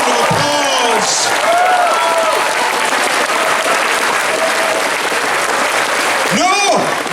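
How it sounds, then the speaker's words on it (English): A large audience at the Auto Assembly 2015 closing ceremony bursts into loud, sustained applause as an artist is welcomed to the stage, with whoops and cheers rising over the dense clapping throughout. "Give them a big round of applause."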